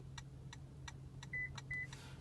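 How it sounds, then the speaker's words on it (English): A 2016 Toyota Prius beeps twice while a new key is programmed, two short clear electronic tones about half a second apart, heard alone over a faint steady background hum. "Heard it beep twice."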